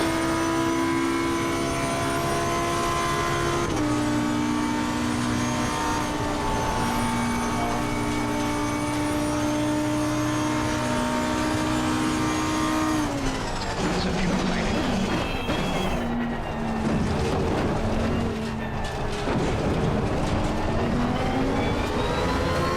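Race cars scream around Spa Francorchamps in a racing video game, a loud sustained engine whine with shifting pitch, then a burst of gear changes and overlapping engines passing nearby.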